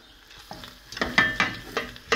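A spoon stirs stuffed grape leaves sizzling in a pot, making a series of scraping, clattering strokes over a steady frying hiss, close and moderately loud.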